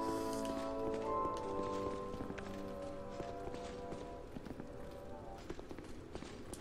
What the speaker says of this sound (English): The sound sounds like a horse.